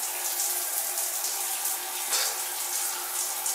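Shower water runs in a steady, continuous hiss, close and fairly loud, with no one talking.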